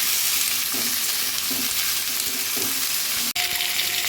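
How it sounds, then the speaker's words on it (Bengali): Ivy gourd fries in an oiled pan with a dense, even sizzle while a spoon stirs and scrapes at a regular pace about every second. A brief dip near the end breaks the sizzle, and no voices are heard. "এগুলোকে আমি এবার ভালো করে একটু নাড়াচাড়া করে নেব, মানে ভাজা ভাজা করবো।"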